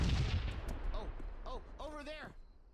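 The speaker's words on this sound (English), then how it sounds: "Let's put our last charge on there. Prepare for detonation." An explosive charge detonates in ArmA 3 during a SWAT breach: a heavy, low booming blast opens the moment and fades out, followed by a voice talking over the game's background.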